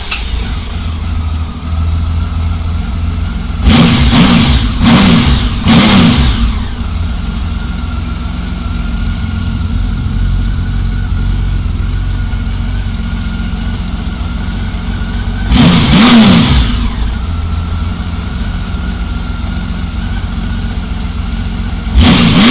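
A 1999 Honda Valkyrie Interstate motorcycle engine idles loud and close, breaking into a cluster of quick revs early on and one more rev later before settling back to a steady idle.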